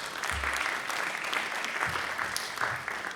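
Applause from a comedy show audience, a thin steady patter of clapping with a few low thumps and faint crowd murmur, fairly quiet and distant.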